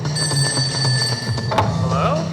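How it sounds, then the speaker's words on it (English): A telephone bell rings in short repeated bursts, loud and close, with a steady background hum; the ringing breaks off partway and a brief voice-like sound follows. "until one day in 1960, Robert's phone rang"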